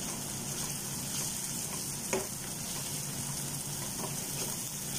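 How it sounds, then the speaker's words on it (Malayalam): Beef curry in a pan with coriander powder being stirred in: a steady, dense sizzle fills the whole clip, with a faint clink or scrape of the spoon now and then, close and even in loudness. "മല്ലിപ്പൊടി ഇട്ടൊന്ന് നന്നായിട്ട് ഇളക്കിയിട്ട്"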